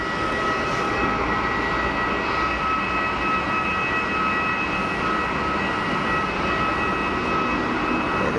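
A TAP Air Portugal Airbus A321neo airliner at Geneva Airport gives off a steady, loud jet engine roar with a constant whine, unbroken and sustained throughout, with no voices over it.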